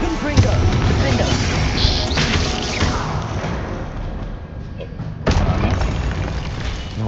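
A Confringo fire spell in Hogwarts Legacy goes off in loud, crackling blasts, with a burst early on and another sharp explosion later, over dense, continuous combat noise.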